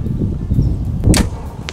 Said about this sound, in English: We're going to shoot that ram right there at 40 yards.